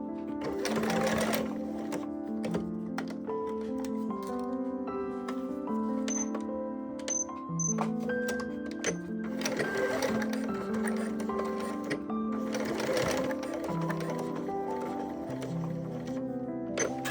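Sewing machine stitching two bra strap pieces together into a ring, running in close repeated bursts of rapid mechanical needle hum with short pauses between runs, loud and steady with no talk.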